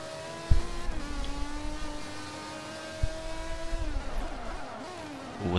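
An Aston Martin DB9 Racing Edition in a racing video game holds a steady engine tone that rises and shifts pitch with revs, with a couple of sharp thumps and a building roar at the end.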